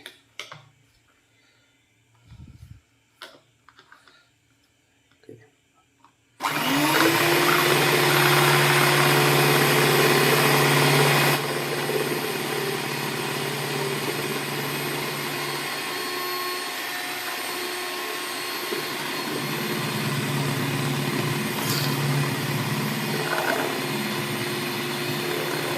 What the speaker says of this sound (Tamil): நம்ம ஒரு நல்ல பிளெண்டர் மிஷினை வச்சு பிளெண்ட் பண்ண போகிறோம்